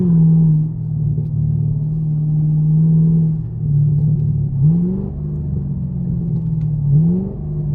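A Chevrolet Camaro SS with a failed differential driven hard, its deep engine rumble droning steadily from inside the cabin, rising into short revving swells, loud and continuous with no talking.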